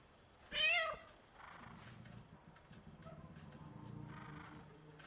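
A cat in the video game Baldur's Gate 3 gives one loud, bright meow near the start, followed by a softer, low rumbling purr and faint movement noises for the rest of the moment.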